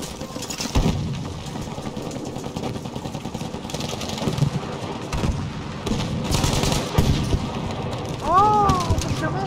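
A tank explodes amid gunfire in the shooter game Battlefield V: repeated loud blasts and bursts of shots over a continuous engine rumble, with a rising electronic sweep near the end.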